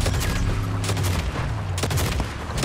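Rapid bursts of gunfire fill a Fortnite match, loud and continuous with overlapping shots throughout the short stretch.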